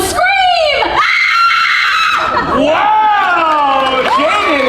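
An audience volunteer at a Universal Studios Hollywood special effects stage show lets out a long, loud, wavering scream, near and sustained, pitch sliding up and down over several seconds.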